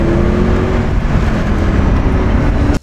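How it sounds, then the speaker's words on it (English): A 2007 Mercedes-Benz CLK63 AMG with its large naturally aspirated V8 drones loudly and steadily up close, a continuous engine roar that holds for nearly three seconds before cutting off abruptly. "The 2007 Mercedes-Benz CLK63 AMG is one of the last Mercedes-Benz with a large displacement V8 naturally aspirated motor."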